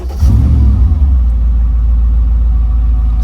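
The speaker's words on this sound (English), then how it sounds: "Let's fire up so you can see the RPMs working." A car engine fitted with a Haltech dash fires up and settles into a loud, deep, close rumble, with a brief rev at the start before steady running.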